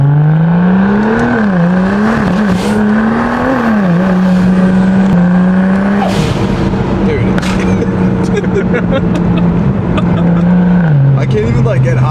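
N54 BMW 135i with a single turbo conversion and Valvetronic Designs exhaust, loud engine drone rising and falling through gear changes and steady pulls, heard from inside the car with people talking throughout.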